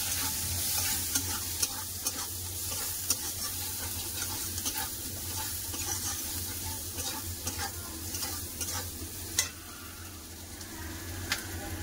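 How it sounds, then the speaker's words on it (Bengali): Chopped onions and green chillies fry in a pan with a steady, dense sizzle. Scattered scrapes and clicks of stirring run throughout, with no voices. "একটু লাল করে পেঁয়াজটা ভেজে নেবো"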